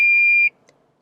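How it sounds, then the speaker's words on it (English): Lexus LS alert at a chosen loudness level, a single clear electronic beep lasting about half a second, followed by a faint click. "How loud are the beeps? Let's hear some examples."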